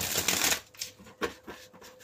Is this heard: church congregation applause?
no